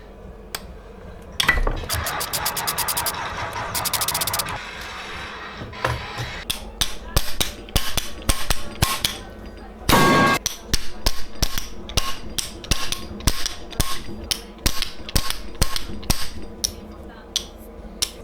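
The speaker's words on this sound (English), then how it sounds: "What could I do without my impact screwdriver?" Impact screwdriver hammering out bolts on a Suzuki DRZ motorcycle engine during a teardown, with repeated loud bursts of rapid rattling impacts separated by short pauses and scattered clanks of metal parts.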